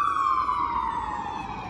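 An ambulance siren in a city, a single sustained wailing tone gliding slowly downward, fairly loud and clear at a moderate distance over faint traffic noise.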